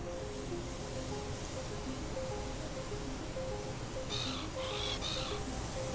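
A cluster of sharp seagull squawks near the end of the stretch in the Willy Morgan and the Curse of Bone Town adventure game, rising over a constant wash of ambient game sound and soft looping music.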